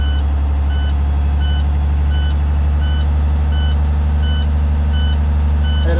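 School bus low air pressure warning alarm beeping in an even rhythm, about eight high beeps over a loud steady idling diesel engine rumble, close by with no talking.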